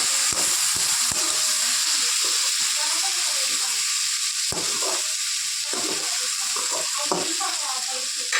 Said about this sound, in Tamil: இந்த மாதிரி கோவக்காய் ஃப்ரை பண்ணணும்